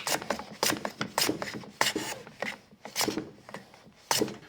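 A Japanese pull saw cuts through a wooden board, a steady run of rasping strokes repeating about once every half second, close and fairly loud with no voices.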